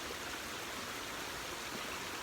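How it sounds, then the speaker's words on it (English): Water rushes steadily down a steep, flooded footpath in a ravine, a constant broadband wash like a stream, with no voices over it. "you can see the water running down the footpath"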